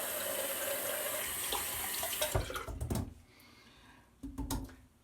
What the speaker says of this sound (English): Okay, we'll rinse off.